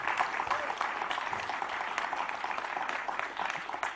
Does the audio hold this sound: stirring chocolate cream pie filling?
no